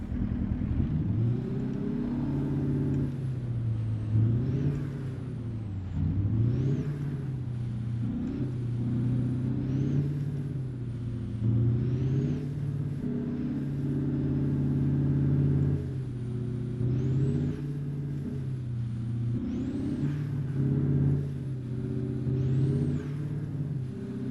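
A custom Peterbilt truck in American Truck Simulator revs its engine through the gears, the pitch climbing and dropping again and again across a long, steady stretch with no talking.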